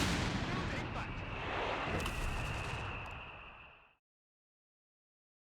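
Semovente self-propelled artillery barrage in Company of Heroes 3, a loud rumbling roar of shellfire with sharp cracks layered over it, fading out after about four seconds into silence.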